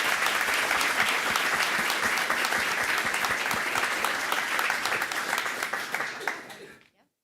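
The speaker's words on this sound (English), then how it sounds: "we'll all give her a round of applause to congratulate Lindsay on this well-deserved recognition" An audience at a school board meeting applauds warmly and steadily for several seconds before the clapping fades out to silence.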